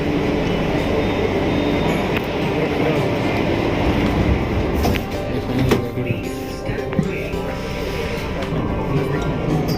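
A Delhi Metro train runs between stations, a steady loud rumble of wheels and car noise with occasional clanks and faint squeals, heard from inside the carriage.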